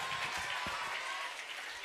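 An audience at a students' school social drama claps for the actor playing the leader, a steady, fairly soft stretch of applause.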